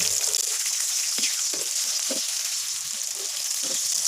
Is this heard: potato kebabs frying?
yes